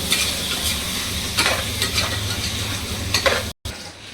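Mutton sautéing in a pan for a homemade mutton kuruma, loud continuous sizzling with repeated scraping stirs of a spoon against the pan, close up and with no talking.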